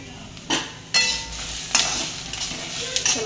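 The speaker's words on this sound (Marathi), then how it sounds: "त्याला पण चांगलं भाजू देऊया आपण।" Garlic dropped into a pan of browned, reddened coconut, frying with steady sizzle while a spoon stirs and scrapes in a few brisk bursts; close and fairly loud, no voices.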